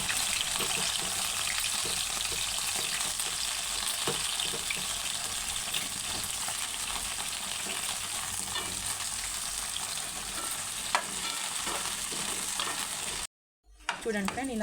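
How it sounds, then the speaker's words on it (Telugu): Thin eggplant slices fry in oil in a pan, giving a steady bright sizzle that runs throughout, with small pops and a brief cut near the end. "మనం ఆయిల్లో వేసుకొని ఫ్రై చేసుకున్నాం కదా"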